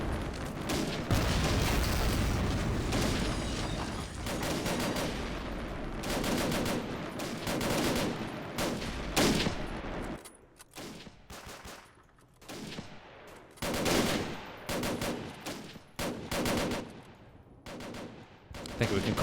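Soldiers fire from building windows in a World War II strategy game, with loud rattling machine-gun bursts and rifle shots in dense volleys, then broken into sharper separate cracks and short bursts.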